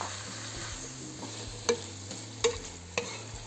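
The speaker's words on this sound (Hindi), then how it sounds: "इसको चलाएंगे।" Green bell peppers and other vegetables frying for restaurant-style egg fried rice are stirred in a pan, a low steady sizzle broken by a few sharp scrapes and knocks of the spoon, with no talking.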